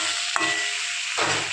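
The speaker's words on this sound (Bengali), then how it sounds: "কুমড়োটা আগে গোটা জিরে শুকনো লঙ্কা দিয়ে ভেজে নিলাম" Pumpkin frying in a pan with whole cumin and dried chili makes a steady sizzle and hiss. One sharp clack comes near the start, and the frying swells briefly toward the end. No one speaks.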